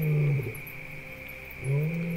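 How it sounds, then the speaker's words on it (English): A lion in the southern African wild lets out deep, low roars at a distance, one at the start and another toward the end, over a steady high insect drone. "Hearing a lion roar in the distance, the hyena prefers to move away"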